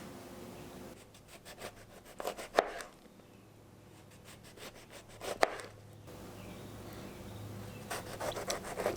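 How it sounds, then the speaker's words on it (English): A knife slices lemons into quarter-inch rounds on a wooden board, giving soft repeated rubbing cuts in bursts with a couple of sharper clicks of the blade striking the board, close and fairly quiet. "So I'm cutting these into about 1/4 inch slices."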